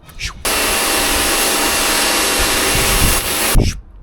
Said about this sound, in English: Get the jet wash.